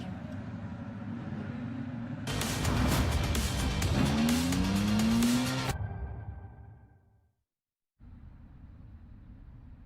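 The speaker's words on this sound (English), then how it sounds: "So we're going to get these cars rolled out onto their reconnaissance lap" Ferrari Challenge race cars rolling out on a reconnaissance lap at Indianapolis Motor Speedway, loud engines roaring past with a rising, shifting whine, then fading away into a brief silence before distant engine noise returns.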